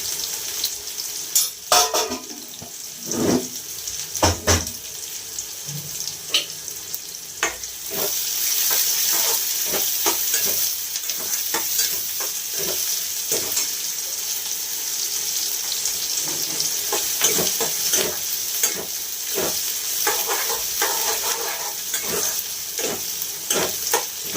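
Mustard seeds fry in hot oil with a steady crackling sizzle, starting with sharp scattered pops and then settling into a continuous loud fizz, close up with no voices.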